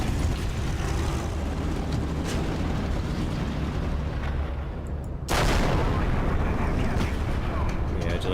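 A 17-pounder tank gun on a Centurion Mk.1 fires in War Thunder, one loud, sharp blast at mid-clip breaking over a steady engine and battle rumble, followed by a sustained roar.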